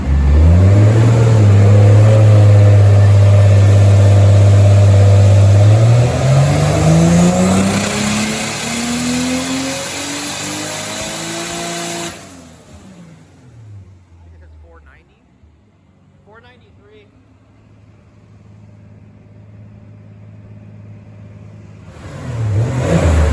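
A Mk3 Toyota Supra with a 2JZ-GTE engine screams on a dyno, climbing in pitch toward about 6,800 rpm redline, loud and sustained for about twelve seconds before cutting off. Quieter noise and brief talk follow, then the engine roars again at the end.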